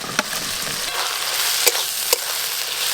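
Chopped ginger fries in hot oil with onion and garlic, a dense close sizzle broken by three sharp utensil clicks against the pan.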